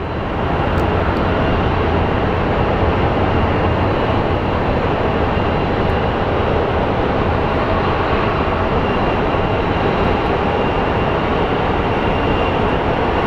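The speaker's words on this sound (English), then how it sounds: "every time I hear a plane power up" Jet airliner engines at Phoenix Sky Harbor airport produce a loud, continuous broadband roar that holds steady without letting up, heard close and alone.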